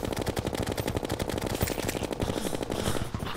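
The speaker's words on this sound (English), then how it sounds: "let's stop firing for a second" Rapid automatic gunfire in the Terraria video game, a dense, steady stream of sharp shots fired in quick succession for several seconds before it tapers off.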